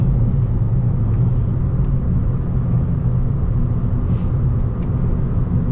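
Stock 2009 Honda Civic Si engine pulling hard into VTEC in fourth gear on a night drive, a loud steady in-cabin drone and rumble with road noise that holds throughout, no talking.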